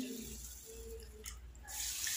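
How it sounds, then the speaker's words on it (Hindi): Water is poured into a pan to make syrup for balushahi, a soft splashing and running-water sound at close range with a brief burst of louder flow toward the end. "दो कप पानी ऐड करेंगे।"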